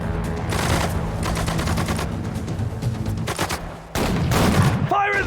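Rapid gunfire rattles in the WWII strategy game Sudden Strike 4, dense bursts of rifle and machine-gun shots at mid distance, with a brief spoken unit callout near the end.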